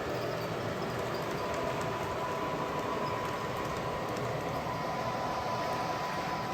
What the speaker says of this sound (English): And on the bottom I have my CSX GP38-2. Should be coming out of the tunnel